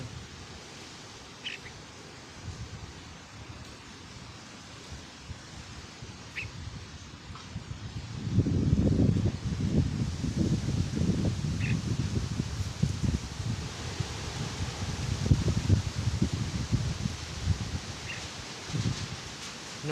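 Wind sweeps through treetops on a cold sunny day outdoors, where caged red-whiskered bulbuls sit in the sun. A soft rustle swells into louder, close gusts partway through, with a few faint, brief bird chirps.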